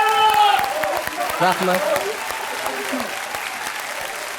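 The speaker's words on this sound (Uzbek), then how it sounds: "Qani olqishim." Studio audience clapping on the singing contest show Ovoz, season 2, steady and moderately loud while a few people speak briefly over it.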